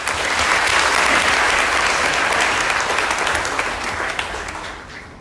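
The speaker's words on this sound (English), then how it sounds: "Please welcome him with a big round of applause." An audience at a university conference gives a big round of applause for the speaker giving the welcome remarks, loud dense clapping that holds steady and then gradually fades.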